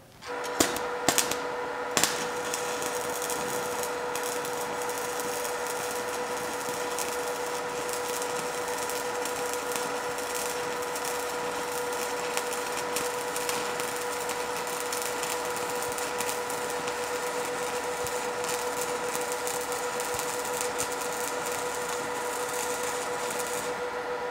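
Electrode arc welding on thin metal: a continuous crackling, hissing buzz with a few sharp pops at the start, then a steady sizzle held for the whole stretch, fairly quiet and without talk.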